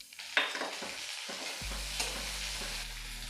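Chopped tomato tipped into onions frying over low-to-medium heat, with an initial clatter and splashy scraping, then a rising sizzle over a low steady hum from the stove.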